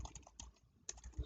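Quiet, close clicking of fingers typing on a computer keyboard, a few irregular keystrokes in quick bursts with no voices.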